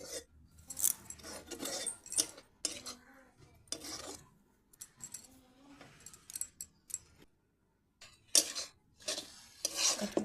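Leafy saag greens with a little water being stirred in a pan, heard as close, irregular scraping and clinking strokes of a spoon against metal, with short pauses between bursts.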